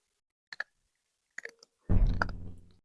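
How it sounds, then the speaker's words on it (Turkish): A few sharp clicks and crunches close up, then a louder crunching burst that fades out, as a cat chews dry food. "kıtırdatma ASMR"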